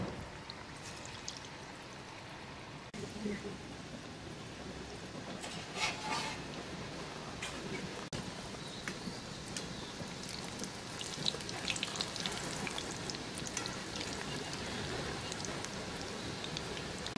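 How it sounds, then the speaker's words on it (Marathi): Moong dal bhaji fritters deep frying in hot oil, a long, even, rain-like hiss and bubbling with occasional sharper crackles, close and quiet throughout. "आपलं तेल इथे तापलंय. आता आपण ह्याच्यात भजी सोडून घेणार आहोत."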